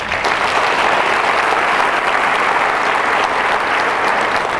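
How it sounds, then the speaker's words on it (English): A large crowd at a city's State of the City address gives a loud, dense, steady round of applause that holds at full strength from start to finish with no break. "Let's give them a round of applause."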